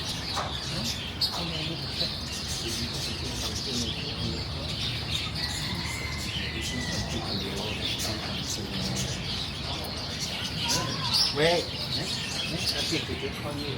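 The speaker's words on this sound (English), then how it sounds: "The chicken and the rooster and the pigeon all go inside to eat their food." Chickens, a rooster and pigeons at a bird shop make steady chirps, coos and calls, with some wing flapping, all layered over a dense, continuous background of ambient noise.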